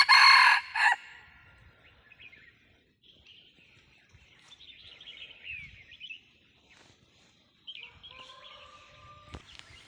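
A young jungle fowl rooster, used as a decoy, gives one loud, close crow at the start, followed by quieter chirps and bird calls, with faint sounds later on.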